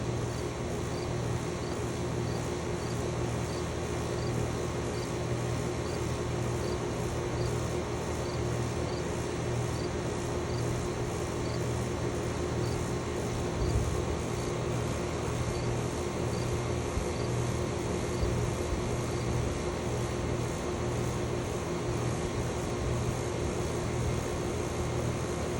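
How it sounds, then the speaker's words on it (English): An air conditioner compressor at Lake Katherine hums steadily and evenly at a moderate level for the whole stretch, with no talking. No clear shutdown is heard. "Compressor's real quiet. The compressor is real quiet. Love the sound it makes."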